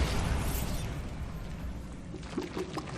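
A booming magical explosion from the Bombarda spell in the video game Hogwarts Legacy, a loud rumbling blast that slowly decays, followed by scattered debris clatter near the end.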